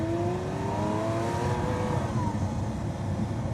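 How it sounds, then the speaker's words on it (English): A Lamborghini Aventador S with its V12 engine revs hard, rising pitch sweeping upward then falling away as the car pulls past, loud and alone with no talk. "that's a sound you don't really get anywhere else than the Lamborghini V12 platforms."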